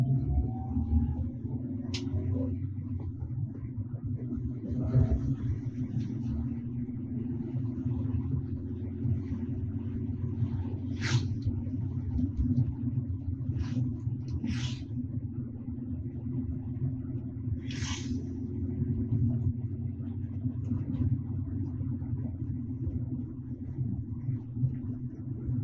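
Car driving in second gear through a right turn, a steady low engine and road rumble throughout with a few faint clicks and brief higher noises over it.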